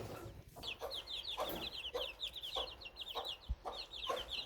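Chickens on a rooftop in the city of Oujda cluck and chirp steadily, with rapid high peeping repeated across the clip and a few soft lower clucks, close and moderately quiet.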